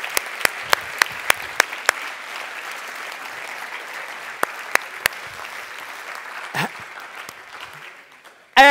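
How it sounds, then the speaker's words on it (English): A live audience applauds itself in a talk on lifelong play, steady dense clapping throughout with a few sharper claps standing out near the start, fairly close and even, ending abruptly. "And you're applauding yourselves, and this is wonderful."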